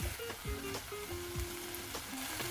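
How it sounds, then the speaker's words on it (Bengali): Green chili paste and poppy seed paste sizzle in a frying pan while a spoon stirs them, with repeated scraping strokes over a steady, close frying hiss. "এবার এই সবটা একটু নাড়বো।"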